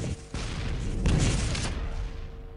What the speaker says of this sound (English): Nice rocket jump from Dem0n though.